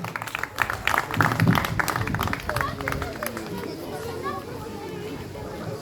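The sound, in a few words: audience applause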